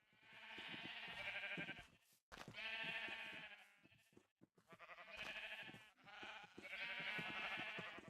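Sheep bleating in a pen in the Minecraft video game, a run of four loud, drawn-out wavering bleats separated by short gaps, heard alone without talk.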